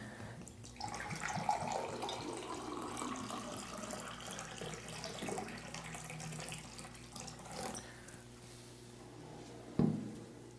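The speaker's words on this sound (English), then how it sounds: "now let me serve some water." Water poured from a container into drinking glasses, a steady soft trickling stream running for several seconds at moderate distance, ending with a light knock of glass near the end, no talking.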